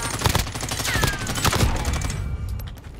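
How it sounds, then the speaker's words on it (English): Dense rapid gunfire in the battle royale game Call of Duty: Warzone, a continuous close fusillade of overlapping shots for several seconds before tapering off into scattered fainter bursts. "Shooting."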